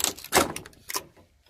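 A greenhouse door being shut during a greenhouse repair, giving a few quick knocks and rattles in close succession and ending in a firm thud, heard close by with no talking.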